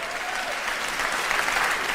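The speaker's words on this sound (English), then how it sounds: "you see how they're clapping?" A stand-up comedy crowd claps steadily, a dense, even wash of applause at moderate volume with no clear talk over it.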